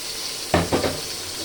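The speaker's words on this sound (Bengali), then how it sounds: "আমি এখন একটাই ভাজবো" A piece coated in turmeric and chili hits hot oil with a sudden sharp sizzle, followed by a second brief crackling burst, close and loud over a faint background hiss, with no talking.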